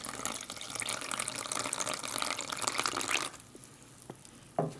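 Water poured into an opened Canadian IMP meal pouch, a steady splashing stream for about three seconds before it stops, followed by faint crinkles and a brief rustle.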